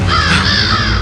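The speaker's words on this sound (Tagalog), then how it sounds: "May malaking uwak na lumilipad sa itaas." A crow caws once, loud and close, as it flies overhead, a harsh rasping call lasting about a second.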